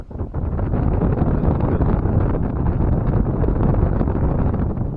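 An air conditioner, repaired after an E-4 fault, runs with a steady, loud rush of blowing air that holds unbroken for about five seconds, close and without voices.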